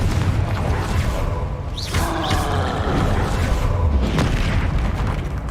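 A Confringo explosive spell goes off in Hogwarts Legacy, a loud continuous booming blast with a sharp whoosh partway through, over dense combat noise.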